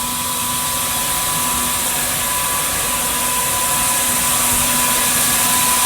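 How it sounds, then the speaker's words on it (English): A knitting machine running in a Los Angeles cotton knitting facility, a loud, constant mechanical whir and hiss with a steady hum, unbroken and close. "So this is a knitting machine that's running right now."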